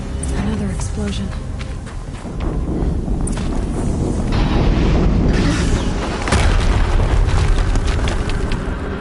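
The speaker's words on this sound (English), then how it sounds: "Another explosion." Explosions in the video game Horizon Zero Dawn boom loudly with deep rumbling bursts and crackling debris, a dense, sustained blast texture with a sharp new impact partway through.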